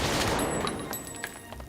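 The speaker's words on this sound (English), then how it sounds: "how Walker cuts together the gunshots during the border crossing sequence" Rapid gunfire from the Sicario border crossing sequence crackles in a dense, loud burst of overlapping shots, with sharp cracks standing out against a continuous roar.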